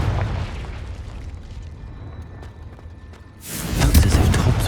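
A Confringo fire spell explodes in the video game Hogwarts Legacy inside a cave, a loud sudden booming blast with a rumbling low tail that follows quieter ambient rumble.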